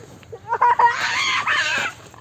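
A chicken clucking up close, a few short clucks building into a louder, drawn-out squawking call that stands alone.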